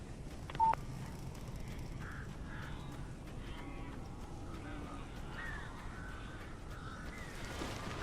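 Crows caw faintly in Alan Wake Remastered, a run of scattered, rasping calls against a constant hiss of game ambience, with a brief sharp electronic beep near the start.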